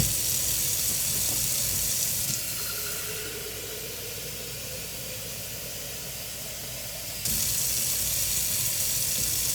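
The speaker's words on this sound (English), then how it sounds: "Now we're going to fill these with water, yay high, both of them" Tap water pouring into containers, a steady broadband hiss and splash that drops to a softer, lower rush partway through as the flow shifts, then jumps back to full strength, close up with no talk.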